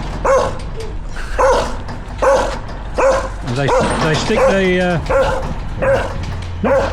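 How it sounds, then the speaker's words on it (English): A dog in Chiang Rai, Thailand, wearing plastic jerry cans around its neck, barks loudly and repeatedly in sharp bursts about a second apart, with a short whimpering stretch midway and someone talking over it. "Look at this complete nutcase of a dog."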